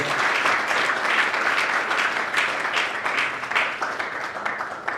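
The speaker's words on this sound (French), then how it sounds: "Est-ce qu'on peut applaudir pour l'artiste, mesdames et messieurs?" An audience applauds the artist at a Congolese music celebration, a dense, steady wash of clapping that stays loud and even for the whole stretch, with no talking over it.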